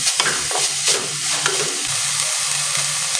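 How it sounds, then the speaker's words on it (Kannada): Chopped vegetables and cabbage being stirred and roasted in a pan for vegetable soup, a loud close sizzle with scraping spoon strokes and clattering bits, continuous over about three seconds with no talking. "ಇವಾಗ ಇದನ್ನೆಲ್ಲ ಚೆನ್ನಾಗಿ ರೋಸ್ಟ್ ಮಾಡ್ಕೊಳ್ಳಿ ಒಂದು 2 ನಿಮಿಷ."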